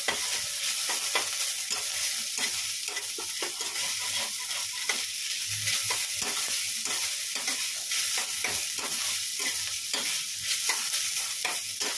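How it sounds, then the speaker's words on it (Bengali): Banana stem (thor) frying in a pan in a home kitchen, a steady close sizzle with repeated stirring scrapes running throughout, no voices. "থোড়টা ভাজা ভাজা করে নিই।"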